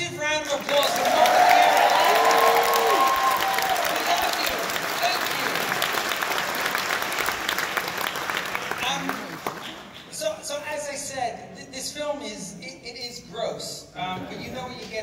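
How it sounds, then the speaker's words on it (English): A crowd at a film premiere breaks into loud, dense applause that holds strong for about ten seconds before thinning out, while people talk and a voice carries over the fading clapping. "Can we have a massive round of applause for Mom?"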